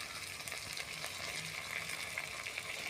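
Thinly sliced chopped tomato frying and being stirred in a pan, giving a soft, steady sizzle with faint scraping, quiet and without talking.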